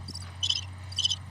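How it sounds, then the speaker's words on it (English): Crickets chirp in short, evenly spaced bursts as a comedic silence sound effect, three trilling pulses over a low steady hum with no voices. "Crickets."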